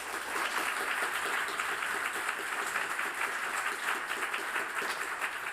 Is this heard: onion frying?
no